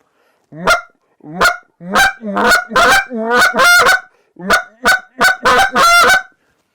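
A Hayes Calls Meat Hook goose call blown in a series of loud, honking notes, first in single blasts, then in quick doubled and tripled clucks, close and clear with no talking.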